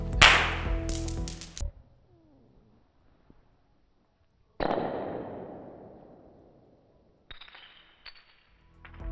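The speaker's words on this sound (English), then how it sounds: "squash balls are meant to be slammed against walls" A squash ball frozen in liquid nitrogen slams against a wall in sharp, loud cracks, the impacts separated by near silence, with a decaying scatter after the middle hit.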